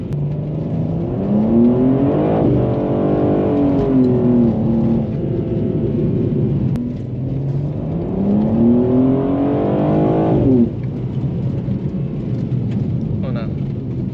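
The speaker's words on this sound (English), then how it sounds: "Oh, I really got to hit that rev limiter, bro." BMW G87 M2 engine revving hard in repeated sweeps up to the rev limiter, loud and close, with rising pitch that falls off abruptly between pulls; a voice is faintly audible over the engine.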